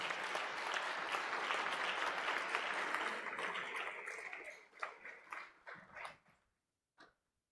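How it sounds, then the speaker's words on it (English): Audience applause at a concert introducing the Vilnius State String Quartet, steady broadband clapping from a sizable crowd that thins out into scattered claps and stops. "You can continue applauding just all the time."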